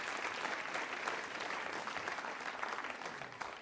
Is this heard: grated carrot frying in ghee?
no